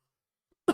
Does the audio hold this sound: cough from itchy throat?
yes